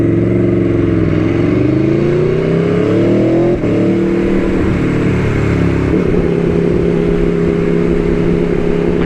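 An Aprilia Tuono V4 1100 Factory motorcycle engine snarls loudly up close, with rising and falling revs over an aggressive, rumbling idle, then settles into a rough, steady throb.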